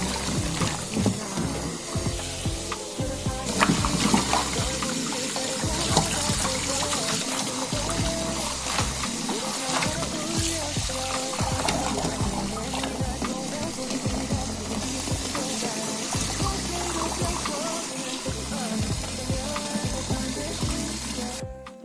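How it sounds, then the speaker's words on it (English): Salted chonggak radishes are rinsed under a running tap for kimchi, a steady, close rush and splash of water filling the whole stretch with no talking. "You need to rinse the salted 총각무 at least 3 times."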